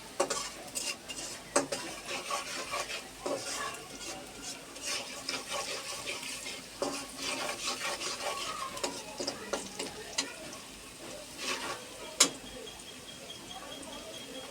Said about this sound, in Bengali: লবণটা মিক্স করার জন্য নাড়া দিয়ে দিচ্ছি